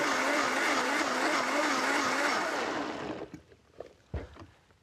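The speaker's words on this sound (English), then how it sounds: "It just makes the blender do an easier job of making a dressing." A blender whirs loudly and steadily for a few seconds, then cuts off, leaving faint clatter.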